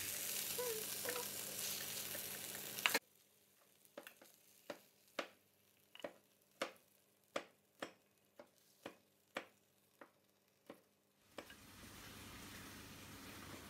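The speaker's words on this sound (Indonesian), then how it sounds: "Ikan bakar bumbu rujak yang 2 ekor lagi sedang proses pembakaran" Two whole fish coated in rujak spice paste grilling over heat, giving a soft sizzle between a string of about ten sharp, evenly spaced clicks or taps, with no talk.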